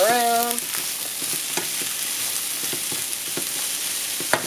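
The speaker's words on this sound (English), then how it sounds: "So we're going to do some zucchini in here. Stir that around." Zucchini frying in a pan, a constant strong sizzle with intermittent stirring scrapes and taps, opening with a brief tonal squeak.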